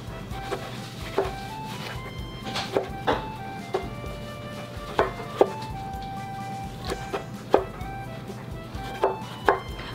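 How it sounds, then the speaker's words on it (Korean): Knife chopping fresh tomatoes on a cutting board in a home kitchen, irregular sharp knocks spaced about a second apart over a steady background hum. "토마토도 썰어 주겠습니다."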